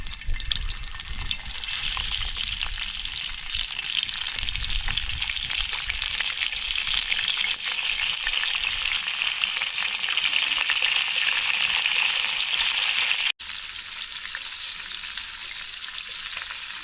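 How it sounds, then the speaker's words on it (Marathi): Chilapi fish from Ujani sizzle loudly in hot oil in a pan over a wood-fired stove, a dense, continuous crackling hiss close by, cutting briefly near the end before resuming. "तर इथं तेल तापले, तर आपण मासे टाकू तेलात."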